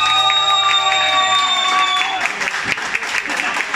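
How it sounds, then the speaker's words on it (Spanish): Audience applause at a live tribute concert for a Spanish rock band: sustained stage tones fade, then a dense wash of clapping and crowd cheering swells and continues loudly to the end. "Un aplauso para nuestra mamá."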